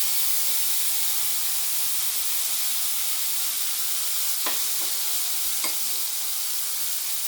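Ground spice paste of cumin, coriander, pepper and ginger frying in a pan with green chillies, a dense continuous sizzle close up, broken by a few quick scraping stirs, with no talking.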